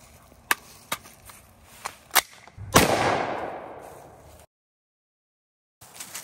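.300 Win Mag rifle fires a green tip steel penetrator round outdoors, one loud close blast that rings out and decays over about two seconds, preceded by several sharp handling clicks.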